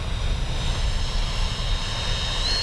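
FMS 70mm F-18 radio-controlled electric ducted-fan jet in flight, a steady whooshing whine of the fan held at constant strength throughout, with no talk.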